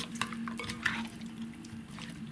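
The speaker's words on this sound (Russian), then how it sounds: "Теперь перемешиваю крылышки с маринадом, поэтому взяла глубокую миску, чтобы было удобно это все перемешать." Chicken wings are stirred through a soy sauce marinade in a deep bowl, giving close wet squelches and the clink of a utensil against the bowl in short, uneven bursts.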